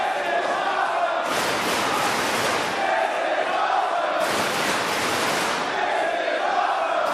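A wrestling arena crowd at a Ring of Honor match roars in two big surges, loud and dense, rising to its feet over a constant background din.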